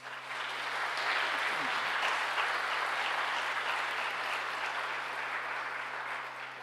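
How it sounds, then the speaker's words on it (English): Sustained audience applause at a Martin Luther King awards ceremony, a steady dense wash of clapping that holds at an even level for several seconds, with a faint murmur of voices underneath. "So would you please give them a round of applause?"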